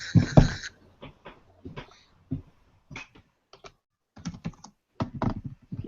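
Computer keyboard typed on during an online live chat, irregular bursts of close, crisp key clicks separated by short pauses, with one heavier clatter at the start.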